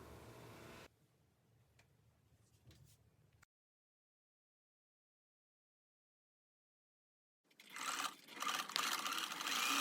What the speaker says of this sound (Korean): 다림질이 끝나면 가장자리에 스티치를 한번 해줍니다